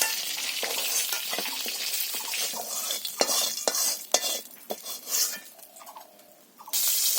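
Fried fish being lifted from a hot pan in a village kitchen: continuous oily sizzling and spatula scraping against the pan, with scattered clinks. Close, busy and fairly loud, with a brief dip before the frying noise returns. No one speaks.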